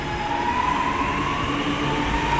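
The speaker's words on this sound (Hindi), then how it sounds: "अभी हम मेट्रो के अंदर हैं" Steady rumble and whine inside a moving Chennai metro train, a loud continuous hum with a rising tone and no talking.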